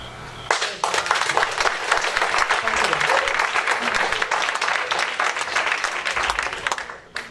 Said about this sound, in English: the extended clapping is going to take a little bit longer to get through the questions